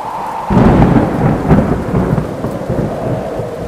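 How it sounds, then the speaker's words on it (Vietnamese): Steady heavy rain with deep rolling thunder that swells and rumbles through the whole stretch, no voices. "May quá, mưa cũng không to lắm"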